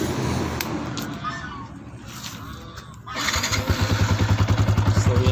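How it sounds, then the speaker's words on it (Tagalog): A Yamaha Sniper150 motorcycle with an aftermarket kalkal exhaust pipe idles with a rough, crackling burble, then is revved into a rapid, loud, pulsing blat close by, with voices talking over the engine. "Ano bang tunog ng kalkal pipe sa Sniper150."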